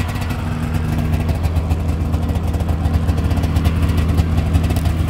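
A 1995 Polaris Indy 500 EFI snowmobile engine runs steadily nearby, a loud continuous two-stroke drone with strong low harmonics and slight rising surges, with no talk.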